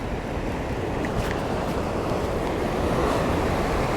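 A big ocean swell rolls against the rocks at a Sydney rock-fishing spot, making a steady, dense roar of surf with no pauses and no voices.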